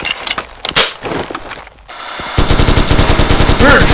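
A water gatling gun fires in a shooter video game, a loud, rapid, steady stream of shots after a couple of earlier bangs, close and dominant.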